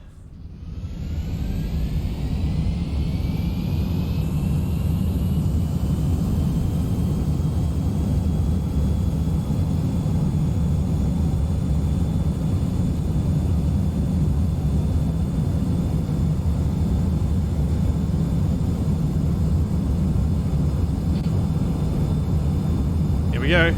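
Aircraft engine in a video game, roaring steadily on the runway during takeoff, with a rising whine at the start and a constant loud drone held throughout.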